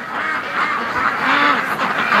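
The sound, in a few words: ducks quacking at a lake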